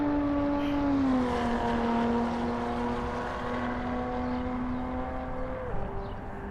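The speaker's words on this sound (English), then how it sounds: "Listen to that sound, listen to that exhaust, it's very dirty." A Maserati Levante S exhaust drones in the Assetto Corsa video game on the Nordschleife, a steady, loud engine tone that holds its pitch and then drops near the end, with no talking.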